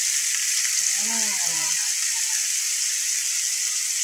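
Potatoes frying in a pan, a steady bright sizzle holding evenly throughout, with a brief spoken word near the start.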